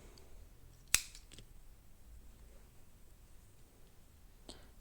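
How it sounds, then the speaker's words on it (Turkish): A single sharp snip of scissors cutting crochet yarn for a butterfly hair clip, close and crisp, followed by a faint second click and a soft snip near the end, in a quiet room without talking. "şimdi kesiyorum"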